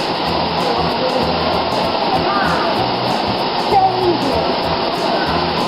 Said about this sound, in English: Separating us from that bear is this water right here.